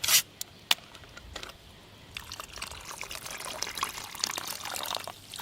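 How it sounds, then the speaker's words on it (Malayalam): Coca-Cola poured outdoors in a village setting, a soft liquid trickle and splash after a couple of sharp clicks, steady and close with no talking. "കുറച്ച് കൊക്കക്കോളയും കൂടെ ഒഴിച്ചു കൊടുക്കണം."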